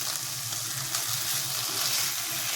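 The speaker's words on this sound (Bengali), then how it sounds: "সব মশলা কষানো হয়ে গেছে, এবার আমি জল দেব একটু।" Spices frying in a pan sizzle loudly and steadily up close as water is added, a continuous hiss of hot oil with faint stirring underneath.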